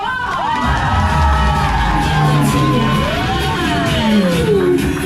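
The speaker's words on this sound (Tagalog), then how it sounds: "Ganyan dapat po yung malakas sa palakpakan at saka sigawan" Crowd of guests at a child's seventh birthday party at Jollibee clapping, cheering and shouting loudly, with children's high whoops and yells rising over the sustained roar for the whole stretch.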